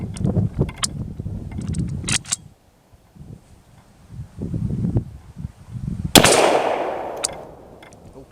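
An M1 Carbine .30 rifle fires one sharp, loud shot outdoors on a chilly range, its report ringing out and decaying over a couple of seconds after a stretch of low handling noise.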